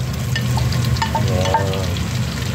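Garlic, ginger and onion sizzle steadily in a hot pan for ginataang langka, with a continuous frying hiss and a few brief utensil scrapes, close and fairly loud, and no talking.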